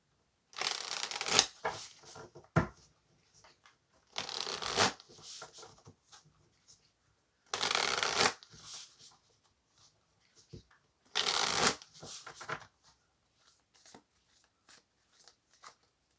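Tarot cards are shuffled in four distinct bursts of crisp riffling, close and fairly quiet, with soft handling noises in between.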